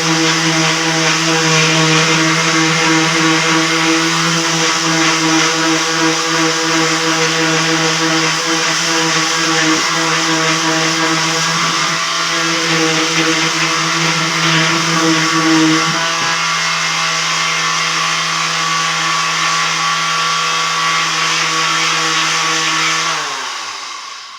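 A power sander smoothing wood pieces whines continuously at high pitch for a long stretch and cuts off abruptly at the end.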